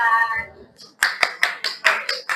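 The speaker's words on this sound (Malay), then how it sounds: "Okey, beri tepukan." A classroom of students claps hands in a short burst of sharp, separate claps following a brief spoken word and a pause, loud and close.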